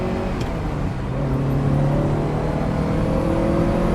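A Ferrari 308 GTS engine hums steadily from inside the car with the roof down, a loud continuous low drone that rises slightly in pitch as it pulls, no talk.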